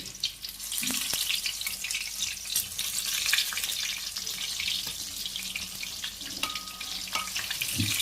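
Mirchi bajji, batter-coated chilli fritters, frying in hot oil with a steady close bubbling sizzle throughout, broken by a few faint clinks of a utensil.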